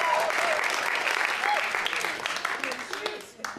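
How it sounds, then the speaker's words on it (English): Audience applause after a speaker at a Sunday church podium, a dense, steady wash of many hands clapping that stays loud before thinning slightly toward the end, with faint voices mixed in. "That deserves applause."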